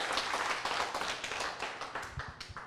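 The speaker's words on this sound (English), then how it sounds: "You can clap, it's fine" Audience members at a political talk gathering clap in a scattered, uneven patter of individual hand claps, fairly close and moderate in level, with no talking over it.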